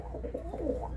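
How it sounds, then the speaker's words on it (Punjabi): Pigeons perched overhead in a loft coo in low, rolling murmurs, several overlapping soft calls forming a steady close burble with no talk. "ਕੁਝ ਕਬੂਤਰ ਇਹ ਉੱਪਰ ਬੈਠੇ ਨੇ ਜੀ"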